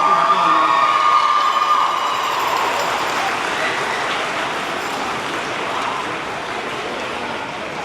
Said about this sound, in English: One more round of applause for Grace Joseph.